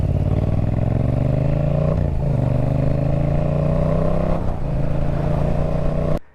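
A Yamaha R7's CP2 parallel-twin motorcycle engine idles and revs steadily with a smooth, throaty drone, briefly dipping twice before cutting off abruptly at the end.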